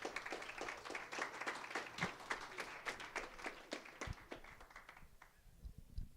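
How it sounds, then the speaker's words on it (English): A high school audience applauds a pastor being introduced, with dense rapid clapping and a few sharp loud claps, fairly distant and quiet, thinning out and fading near the end. "Y'all clap like y'all knew me"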